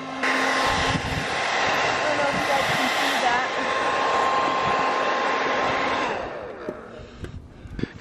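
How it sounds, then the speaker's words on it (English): A blow dryer whirs steadily and loudly nearby with a constant high-pitched whine, aimed at roof plugs inside a Sprinter van, then cuts off near the end, leaving faint handling noises. "with a blow dryer"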